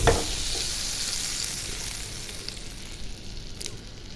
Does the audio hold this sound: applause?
no